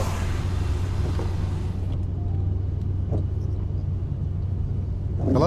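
A boosted Ford Mustang GT cruises on a highway, heard from inside as a loud, steady low engine and road rumble with a few faint clicks, no talk.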